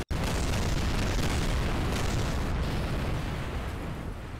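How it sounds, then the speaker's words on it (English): A rocket in the Kerbal Space Program video game explodes on launch: a sudden loud boom opens into a long, dense rumbling roar that fills the whole stretch and fades only slightly toward the end, with no talk. "a lot of stuff fires off in the first stage, so this may well explode"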